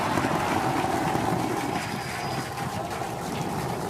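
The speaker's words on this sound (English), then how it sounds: "Booster landing burn. Seeing 13 engines." The Starship Flight 7 Super Heavy booster fires 13 engines in its landing burn, a continuous broad roaring rumble mixed with wind noise, steady and heavy throughout.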